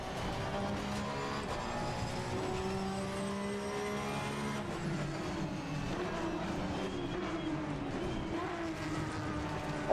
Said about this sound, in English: Oh, this Porsche sounds so good.